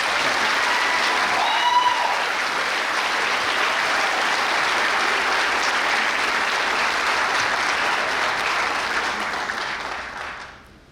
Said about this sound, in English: Let's everyone have one last final applause for the 2025 Ivy Day royalty.